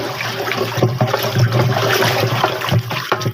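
Irrigation water mixed with urea fertilizer gushes from a tap into a tobacco field, a steady, close, rushing splash with constant turbulent flow and no speech.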